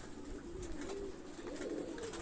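Soft, low pigeon cooing rolls on in gentle repeated murmurs over a faint background hiss, fairly quiet.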